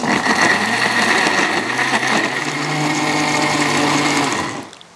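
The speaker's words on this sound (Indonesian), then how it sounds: "Kita alusin dengan blender. Kita kasih sedikit air." An Idealife electric blender grinds chili peppers with a little water, a loud steady whirring motor hum that runs continuously for several seconds before winding down abruptly at the end.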